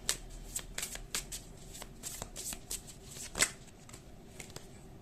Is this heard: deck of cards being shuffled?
yes